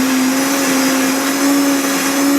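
A blender runs at high speed on green juice, giving a loud, steady whirring roar with a constant motor whine that holds throughout, close up, with no voices.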